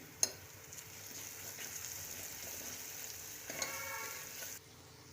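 Spices and homemade black masala sauté in hot oil, giving a faint, steady sizzle with a couple of soft clicks from stirring; no one speaks.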